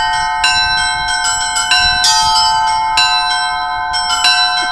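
Seven automated church bells ring in the belfry of a new church in Cherepovets, 22 metres up. Loud, close, overlapping metallic strikes repeat in an uneven rhythm with long ringing tones.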